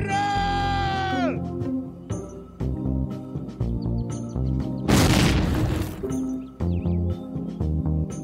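A grenade explosion in the Faces of War war game, one loud broadband blast in the middle of the mix, with battle sounds and game noise before and after it.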